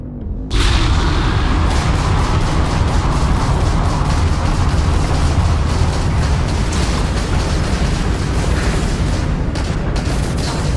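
Spaceship weapons in the video game Starfield open up in a loud, sustained barrage of rapid booming shots that hammer on without pause for about ten seconds.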